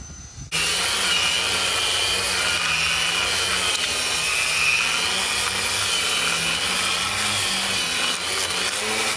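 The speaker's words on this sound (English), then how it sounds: "I was sanding the stern of this boat." Power sander working on the stern of a sinking boat, a continuous close, loud grinding whir that starts abruptly and runs steadily without pause.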